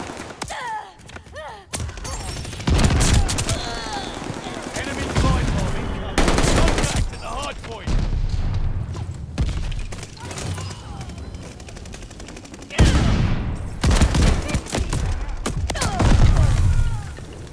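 Sustained bursts of automatic gunfire and heavy thumps around a contested hard point in Call of Duty: Vanguard, loud and close, with rapid volleys rising and falling and fresh fusillades cutting in; voices come through between the shots.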